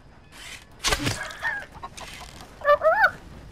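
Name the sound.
chickens clucking in the video game Red Dead Redemption 2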